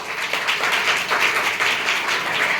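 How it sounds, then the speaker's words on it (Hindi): Children in a classroom clap together after casting a mock ballot in a school election, a steady, fairly loud patter of small hands that keeps going without pause. "वेरी गुड, ताली बजा दीजिए"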